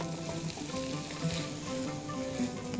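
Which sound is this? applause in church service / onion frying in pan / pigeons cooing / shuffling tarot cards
onion frying in pan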